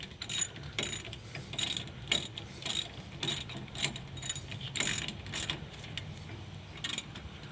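Ratchet snugging a 10 mm bolt on the rear brakes of a 2002 Dodge Ram 1500, about a dozen short, evenly spaced bursts of clicking, close and clear.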